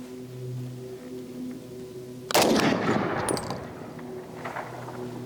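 A single loud hunting rifle shot fired with iron sights on an outdoor range, a sharp crack followed by a long rolling echo that fades over a couple of seconds.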